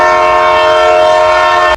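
A train horn at Dehu Road railway station sounds one long, loud, steady blast with stacked harmonic tones that holds for nearly two seconds before cutting off abruptly.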